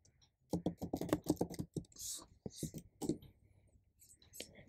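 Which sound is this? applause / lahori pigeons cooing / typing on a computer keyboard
typing on a computer keyboard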